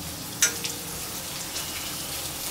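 Chopped onion and tomato sautéing in a pan for a Maharashtrian masoor potato gravy, giving a steady, soft broadband sizzle and hiss throughout, with one sharp utensil tap or scrape early on and a fainter one just after, without any talking.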